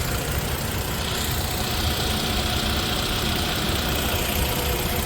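A Toyota Tacoma engine idling after an oil change, a steady, even hum with no rev changes, blended with constant broadband traffic noise from nearby that is as loud as the engine itself.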